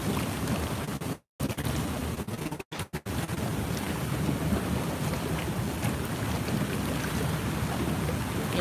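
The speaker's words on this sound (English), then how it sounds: "Let me show y'all the bubbles." Whirlpool tub jets churning lukewarm water, a constant loud rushing, bubbling wash close to the microphone, broken by a few brief dropouts, with no talking.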